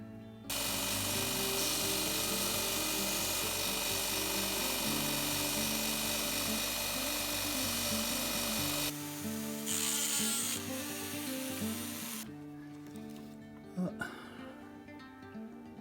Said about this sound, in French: Et je vais continuer de meuler la vis.